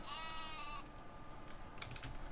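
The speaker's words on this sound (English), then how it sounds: "Sheep." A sheep bleats in a farming video game, one drawn-out wavering cry at the start, followed by faint clicky keyboard-like taps at low volume.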